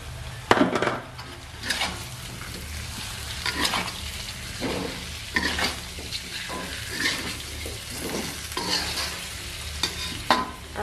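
Tofu and chicken eggs cooking in a spice paste, stirred in a pan: a steady low sizzle with repeated scraping and knocking stir strokes, close and without talk.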